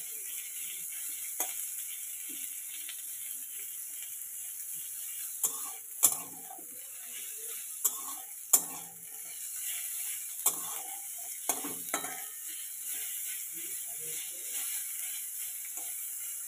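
Onion and garlic frying in a pan give a steady soft hiss broken by scattered sharp crackles and pops, with no voices.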